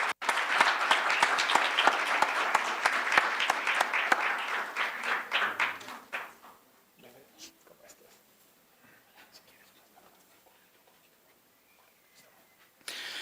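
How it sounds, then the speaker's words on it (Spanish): An audience at a journalism award ceremony breaks into loud sustained applause that fades out after about six seconds, leaving scattered faint claps and room noise. "Un aplauso para él, por favor."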